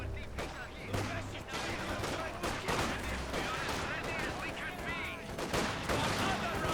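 A ZiS gun artillery barrage and gunfire in Company of Heroes 2, with repeated sharp shots and booming impacts scattered through a continuous battle din, fairly loud and dense, with faint talk underneath.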